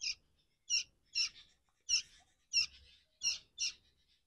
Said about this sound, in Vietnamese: chim mẹ của cái em này vẫn gọi đấy